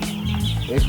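Local chicks about a month old cluck and peep close by, a short busy burst of calls with a louder squawk near the end.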